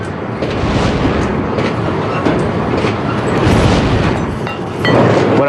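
A blacksmith's lever-operated bellows pumps air into a forge fire, giving a loud, steady rushing roar with slow surges in strength, close and unbroken.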